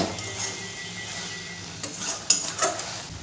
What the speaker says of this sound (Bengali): পোস্তটা দিয়েও ভালো করে মিশিয়ে নেব